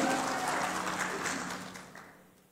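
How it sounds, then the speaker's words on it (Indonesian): Audience applause at an MOU signing ceremony between OK OCE, KADIN and the Gorontalo provincial office, with a crowd clapping steadily and the sound slowly fading toward the end, with no voices on top. "Tepuk tangan buat saudara saya"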